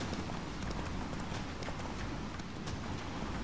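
Horse hooves gallop in Witcher 3, a rapid, continuous clip-clop beat over dense game ambience, steady and fairly loud throughout.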